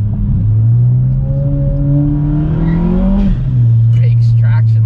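A stage 3 MK7 Volkswagen Golf GTI accelerates from inside, a loud engine drone climbing in pitch through a gear, then a brief hiss as the blow-off valve vents before the note drops, with faint voices at the end.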